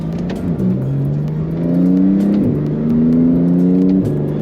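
A 2018 Porsche GT2 RS engine pulls hard from inside the car, rising in pitch through short-shifted gears at quarter throttle, with clear drops at each upshift and a loud, steady drone.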